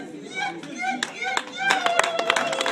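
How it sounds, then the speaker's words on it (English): Guests at a traditional wedding break into lively, dense clapping with cheering voices as the couple cuts the cake, the applause building and growing louder toward the end. "the crowd erupts into clapping and cheers"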